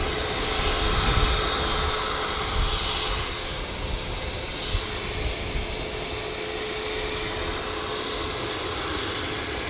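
A British Airways Airbus A319 jet at Manchester Airport gives a steady, fairly loud engine roar that holds unbroken for about ten seconds, with no voices.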